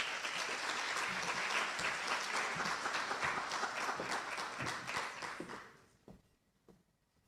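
Dense applause from a seminar audience welcoming a speaker, steady and full for about five seconds before thinning to a few scattered claps and fading out.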